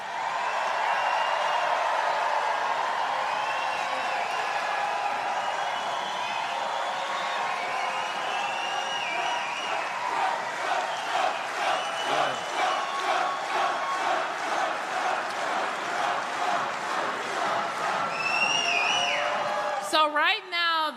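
A large political rally crowd responds for Donald Trump with roaring cheers and shouting that swell into rhythmic clapping and chanting, loud and sustained, cut off abruptly at the end by a sharp noise.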